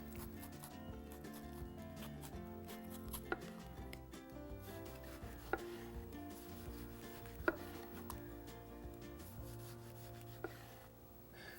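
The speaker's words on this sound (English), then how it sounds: "I'll core it and just really thinly slice it" A knife thinly slices a cored heirloom tomato, making a steady run of soft rubbing cuts with a few sharper taps on the board, quiet under a continuous musical bed.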